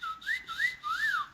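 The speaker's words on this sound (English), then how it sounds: "who's whistling?" Person whistling during a live stream, a short melodic phrase of three rising and falling notes, clear and fairly close with no talk over it.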